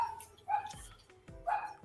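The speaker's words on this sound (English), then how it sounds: "my dog will be barking like crazy too" Dogs barking in the background of a home setting, two or three sharp barks spaced about a second apart, fairly clear and moderately loud, with no talk over them.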